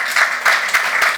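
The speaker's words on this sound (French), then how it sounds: "je vous demande de les applaudir très fort" Audience applause at an official convention signing between Côte d'Ivoire and the American government, a steady loud wash of many hands with rhythmic swells throughout, no talking.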